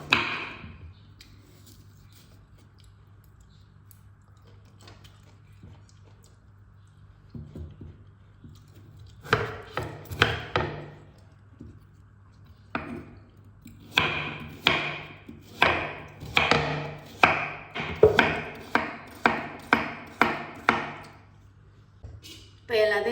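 Rapid rhythmic knife chops on a cutting board while vegetables are cut, starting sparse then building into a steady run of close, crisp strikes over a low hum.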